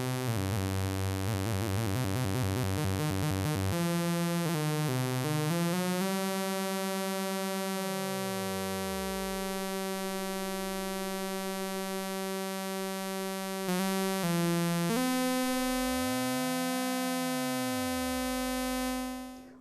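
A Q155 Curver curve converter on a modular synthesizer reshapes a buzzing waveform under LFO modulation, producing a sustained, harmonically rich tone with slow sweeping pitch arcs and gliding overtones, cut by brief stuttering bursts.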